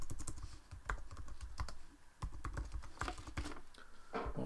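Rapid typing on a computer keyboard while entering an Excel formula, a close, steady run of key clicks with brief pauses and no talk.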